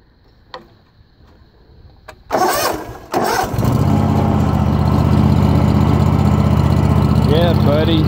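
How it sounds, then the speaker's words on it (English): A lawn mower engine is pulled over a few times, then catches and settles into a loud, steady running drone close by, with a few quiet sounds before it starts. "see how this mower runs"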